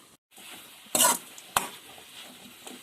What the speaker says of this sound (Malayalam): നമ്മുടെ ചീര ഒന്നുകൂടി ഇളക്കി കൊടുക്കാം